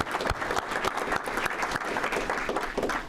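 An audience applauds graduating seniors at a Rotary meeting, dense steady clapping from a crowd filling the room for about three seconds with no voices.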